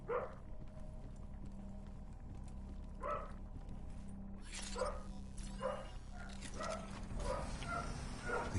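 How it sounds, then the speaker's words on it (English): Dog barking as a series of sharp, mid-distance barks spaced a second or so apart, growing more frequent toward the end, over a low steady background hum. "That was my goddamn dog barking."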